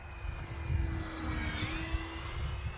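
FMS P-47 RC model airplane gliding in to land with the throttle off, a faint, thin distant drone under breezy outdoor noise.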